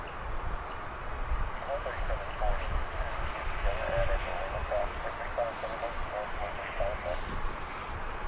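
A UPS Airbus A300 arriving at DFW Airport, a distant jet roar and whine building steadily on approach, low and moderately faint, with a voice speaking over it and faint children's voices in the background.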